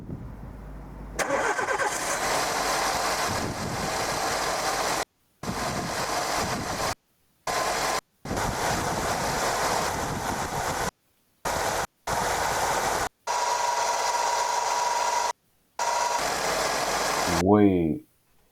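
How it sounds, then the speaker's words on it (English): A bus engine making a moaning drone, running as a steady close rumble with a rising whine near the end, broken by several abrupt cuts, with people talking over it. "Because I've heard buses with this noise during the summer, during the heat."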